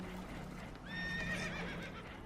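Spooked horses whinny and neigh in Red Dead Redemption 2, a rising, wavering call of about half a second standing out over a steady low rumble of a boat taking on water, with faint clopping beneath.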